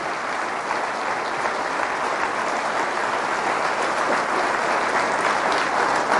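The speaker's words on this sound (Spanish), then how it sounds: "Fuertes aplausos al Rey de Reyes" Sustained, dense applause from a church congregation honoring Christ during a sermon, steady and loud throughout with no pauses or talk.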